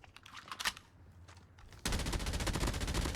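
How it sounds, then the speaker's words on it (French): A burst-fire weapon in a video game opens up in a loud, rapid, continuous stream of shots, preceded by quieter scattered clicks and distant fire. "Ah, celui avec l'arme à rafale."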